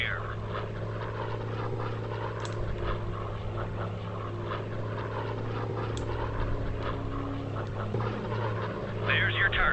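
Propeller warplane revving on the deck of the USS Enterprise carrier in Air Conflicts Pacific Carriers, a steady droning engine hum held throughout, loud and continuous, with a brief rising surge near the end.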